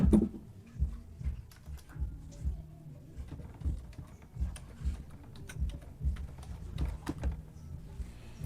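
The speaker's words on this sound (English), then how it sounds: "So we can just type their institution reg number." Computer keyboard typing an institution registration number into a database table, a brisk irregular patter of close key taps with short gaps, no voices.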